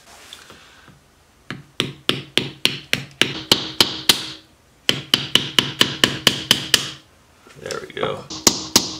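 A small hammer strikes black walnut shells resting on something hard, sharp repeated taps in quick bursts of a dozen or so, close and crisp, with brief cracking and rubbing between the runs.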